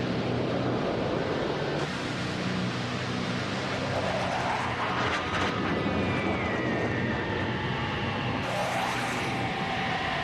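Military fighter jets flying a dogfight training exercise at altitude, a loud continuous roar with rising and falling engine whine as the planes maneuver, heard close and without talk.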